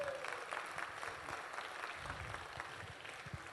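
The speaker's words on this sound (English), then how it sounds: "Give yourselves a round of applause" A conference crowd at the Native American Nutrition Conference breaks into sustained applause, a dense wash of many hands clapping at moderate volume throughout, with some low thumps underneath.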